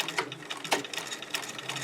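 A sewing machine stitches with a double needle, running in a quiet, steady mechanical whir with a fast regular pulse of needle strokes and no talk.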